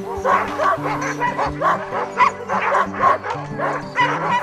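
A team of sled dogs barks, yips and whines excitedly before setting off on a sledding trip, a dense, continuous chorus of overlapping close-up voices.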